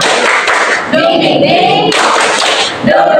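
A classroom group in Indonesia does a rhythmic tepuk semangat clapping chant. Loud, close bursts of claps repeat in a steady pattern, mixed with voices chanting along the whole time.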